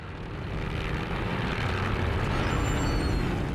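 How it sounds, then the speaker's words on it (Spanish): Low-flying World War I airplanes over a battlefield, a steady broad engine drone that holds loud and continuous throughout, with no voices. "Los aviones vuelan bajo sobre el campo, observando el progreso de la batalla."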